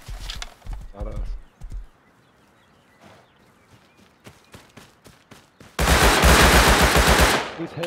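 Video game raid with a horse's hooves clip-clopping and bursts of rapid gunfire, ending in a loud sustained volley of shots; players talk over the action.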